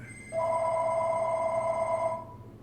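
A telephone rings once with a steady electronic tone lasting nearly two seconds, clear and close, with no talk over it.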